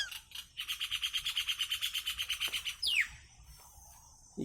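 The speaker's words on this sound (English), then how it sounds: "You can see another bird is also sitting on this guava tree" Birds perched in a guava tree give a rapid run of about twenty loud, evenly spaced chirps, followed by a quick downward call, with no talk over them.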